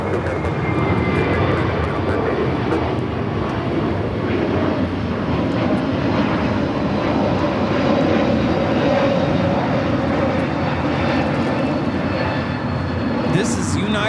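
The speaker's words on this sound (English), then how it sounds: "This is United Airlines 2113 taking off to Chicago on the A321neo." United Airlines Airbus A321neo taking off from LAX bound for Chicago, a loud steady engine roar that holds for the whole stretch, with no words spoken.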